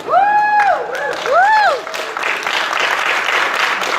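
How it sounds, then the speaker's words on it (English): Audience applause at a Halloween Horror Nights convention panel, a broad crowd wash rising behind a speaking voice at first and then carrying on steadily on its own. "I'll let the applause build."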